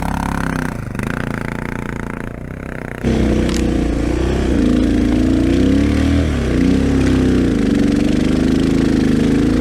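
Off-road motorbikes ride a trail in Belanglo State Forest, their engines droning steadily up close with a low, rough tone that rises and wavers as the throttle shifts, louder after a brief change in the first few seconds.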